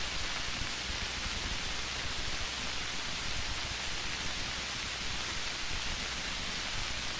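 Steady, hissing rain falls continuously at moderate loudness, with no voices or other distinct sounds.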